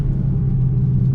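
2021 Mercedes A35 AMG on snow tires, a steady loud low cabin rumble of engine and road noise while cruising, continuous and even with no voices.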